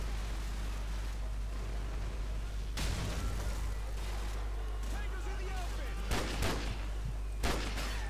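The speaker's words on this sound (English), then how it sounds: "Shit, grenade." Grenade blasts and gunfire in Call of Duty 4: Modern Warfare: a few sharp bursts stand out over constant low rumble and battle noise, with a player talking.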